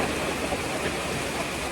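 Heavy rain pours down in a steady, dense broadband hiss that stays loud and unbroken throughout, with no voices present.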